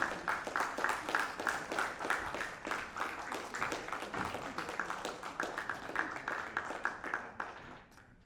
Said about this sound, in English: Let's keep the clapping happening.